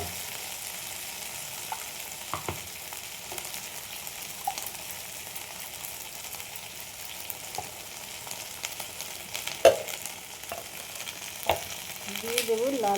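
Okra fries in oil with spices in a pan, a steady quiet sizzle broken by occasional stirring clinks and scrapes, close by, with no talk.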